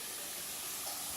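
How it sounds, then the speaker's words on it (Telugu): Sakinalu, Telangana rice-flour snacks, frying in oil in a kadai, a continuous faint bubbling hiss with no talk. "కడాయిలో మినిమం ఒక 8-10 అట్లా వేసి వేయించుకోవాలి."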